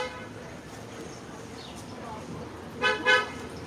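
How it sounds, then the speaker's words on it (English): Two short car horn toots sound in quick succession near the end, honked by passing traffic at a roadside Trump flag waver in St. Armand's Circle, after a stretch of quiet street ambience. "They were honking at me, of course,"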